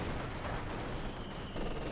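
Mortar and rifle fire in the strategy game Company of Heroes 2, a dense continuous barrage of gunshots and blasts layered over each other throughout.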